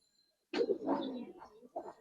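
Old-line Giribaz pigeons coo nearby in a few short, low, throaty bursts after a quiet start.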